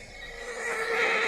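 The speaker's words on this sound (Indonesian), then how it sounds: "suara teriakan seekor kuda" A single horse neighs loudly as a radio drama sound effect, a rising whinny lasting about a second with a little background hiss and no talking.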